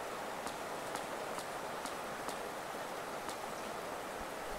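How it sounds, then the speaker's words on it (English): Steady rain falling during a boss fight in the video game Hollow Knight, a constant hiss of game rainfall with faint scattered drip ticks, even and unbroken throughout, no voices over it. "I love boss fights in the rain."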